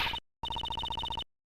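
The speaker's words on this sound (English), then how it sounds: "Judge Courtney's cell phone's ringing" A cell phone rings in the Ace Attorney Investigations video game: one short electronic trill, a brief silence, then a longer run of rapid, evenly pulsed bright tones that stops abruptly.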